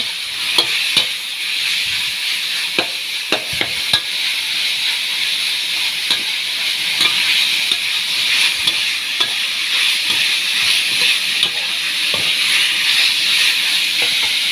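Beef with kaffir lime leaves, seasoning powder and oyster sauce sizzles steadily in a hot wok, a constant bright frying hiss broken by repeated scraping knocks of the spatula as it is stirred, close and loud.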